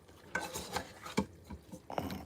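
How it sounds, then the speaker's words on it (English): Fried cabbage being stirred in a pot, giving a few scraping, clinking utensil strokes against the metal at an uneven pace, close and moderately quiet with no talking. "All right, let's stir it up."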